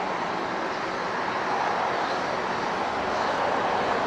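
A Western Global Cargo Boeing 747-400 at Los Angeles International Airport gives off a broad, steady jet engine roar, continuous and fairly distant, with no talking.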